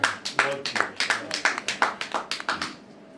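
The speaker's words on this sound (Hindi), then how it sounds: "निश्चित रूप से तालियां बता रही हैं कि आपने वंदना बहुत ही श्रेष्ठ और उत्तम की है।" An audience claps after a sung Hindu invocation to the goddess Saraswati at a literary gathering, with a brief run of sharp, distinct handclaps that thins out and fades near the end.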